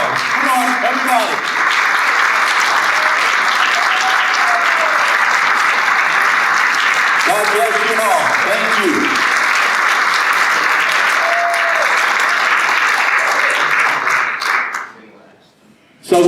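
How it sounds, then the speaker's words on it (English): A Rotary meeting audience gives a long, loud round of applause, dense sustained clapping that fills the room with a standing crowd, while someone speaks briefly over it near the start and middle before the clapping fades out at the end. "Please, I hope you stand up one more time for a big round of applause."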